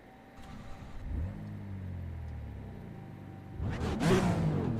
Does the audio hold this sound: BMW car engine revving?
yes